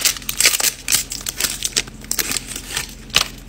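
A Reese's marshmallow peanut butter cup is unwrapped close by, its wrapper crinkling and crackling in quick, uneven bursts for a few seconds, with no voices.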